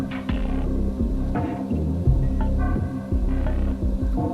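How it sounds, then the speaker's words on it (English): PC case fans in an i5 11500 build spin at roughly 800 to 1,000 RPM, heard close at the back of the computer as a low, steady hum with a soft, rhythmic throbbing. "you can probably just hear the fans"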